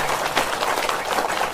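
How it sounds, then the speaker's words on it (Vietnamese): A hall audience at a Buddhist talk breaks into dense, sustained applause, many hands clapping steadily and loudly for the whole moment. "Xin đại chúng cho một tràng pháo tay"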